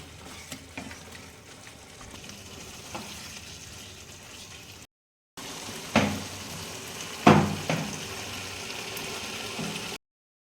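Goat mutton stir-fried (kosha) in a pan with its masala, giving a close, continuous sizzle and bubbling. A brief silent gap falls midway, then sharper spatula scrapes and clatters against the pan follow.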